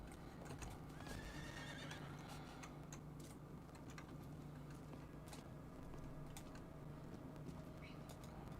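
Horse in Diablo 4 neighing once early on, followed by a steady run of hoofbeat clip-clops against a faint background, with quiet indistinct talk and clicking underneath.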